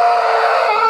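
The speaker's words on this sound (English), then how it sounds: "Jeffy let out a huge scream." A puppet character in a comedy web series lets out one loud, sustained, high-pitched scream that fills the whole second without a break.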